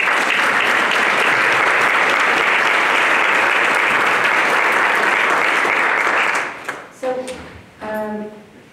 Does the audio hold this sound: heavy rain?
no